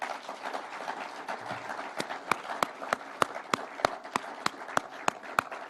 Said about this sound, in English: Can we clap for these people?